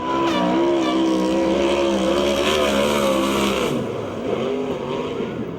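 A USAC/CRA sprint race car's engine screams loudly nearby on the track at Perris, California, its pitch rising and shifting through gears, then easing slightly as the car moves away.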